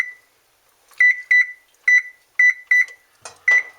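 A stove timer gives a string of short, sharp electronic beeps in quick irregular succession as buttons are pressed, loud and close in a quiet kitchen.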